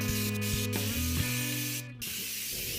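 A spray gun hisses Fluid Film undercoating onto a vehicle in steady close bursts, broken by a short pause near the end, with faint mechanical clicks underneath.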